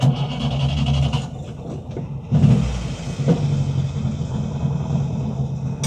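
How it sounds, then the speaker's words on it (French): A vintage Peugeot 403 car engine cranks and catches, then settles into a steady low idling rumble with a slight rev partway through. "On met le contact. Starter ici."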